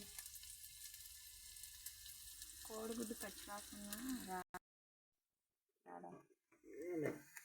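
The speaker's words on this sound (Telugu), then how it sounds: "ఇలా బ్రౌన్ కలర్ వచ్చి దాకా వేయించుకొని పెట్టుకుంటే సరిపోద్ది" Egg frying in a pan until browned, a steady sizzle under a person's talking for several seconds before it cuts off abruptly, then brief speech returns.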